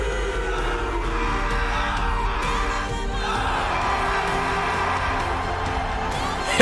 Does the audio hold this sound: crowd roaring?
yes